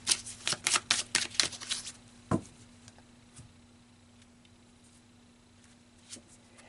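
Tarot cards are shuffled in a rapid run of crisp slaps and riffles, close and clear, followed by a single tap and quiet handling.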